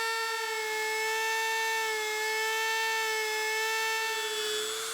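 A Dremel rotary tool whines at a steady, high, near pitch while cutting a traced pattern in wood held in a vise, sustained and alone with no talk.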